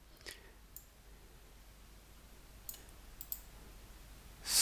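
Sparse, faint computer mouse clicks while editing in BandLab, a few soft separate taps over quiet room hiss, ending in a louder burst of noise.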